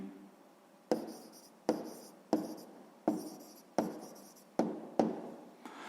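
Pen writing out a math answer on paper, with a series of about eight short scratchy strokes at a regular rhythm, close and fairly quiet, with no voice.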